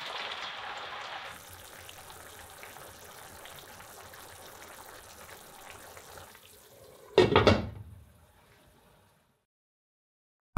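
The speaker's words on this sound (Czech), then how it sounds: "do brambor přidat vývar nebo vodu a nechat je vařit." Broth or water poured from a pot onto frying potatoes for cabbage soup with sausage, a steady hissing, splashing pour that tapers off, then one short, loud sizzling burst before near silence.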